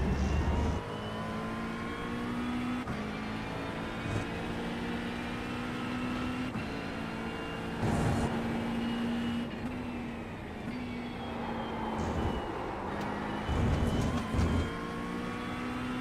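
Engine of a McLaren race car in the iRacing sim at Donington, a steady sustained drone with gear-change shifts and brief louder bursts over the lap, no talk.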